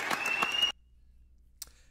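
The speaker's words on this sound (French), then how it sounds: "j'aimerais vraiment qu'on applaudisse aux directrices des loisirs" Brief audience applause for recreation directors at a town event, a short burst of clapping that cuts off abruptly into near silence, followed by a faint click.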